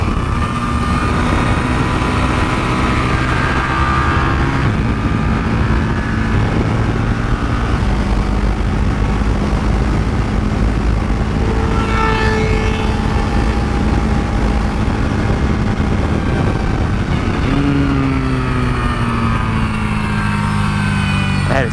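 A 2023 Buell Hammerhead 1190 sport motorcycle with fading brakes runs on a race track, its engine loud and close, rising and falling in pitch through gear changes for the whole stretch.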